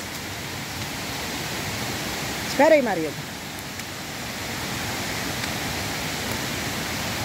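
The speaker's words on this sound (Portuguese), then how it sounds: "Como está descendo água das encostas." Heavy runoff water rushing down rocky hillsides after strong rains, a steady broad roar filling the whole clip, with a brief spoken phrase over it midway.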